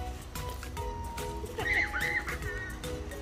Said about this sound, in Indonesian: Keledai.